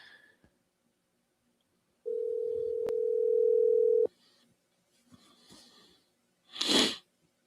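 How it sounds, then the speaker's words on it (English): A telephone dial tone on a radio call-in show, a steady pure tone holding for about two seconds, followed by faint clicks and a short burst of noise, with near silence around it. "let's go ahead and get Tim on the phone"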